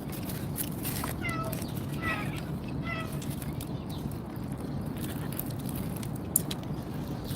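Several cats meow a few times for chicken, short clear mews over a steady background rumble, fairly close and of moderate loudness.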